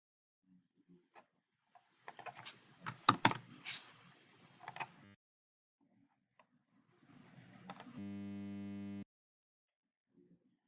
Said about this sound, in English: So you can type any description you want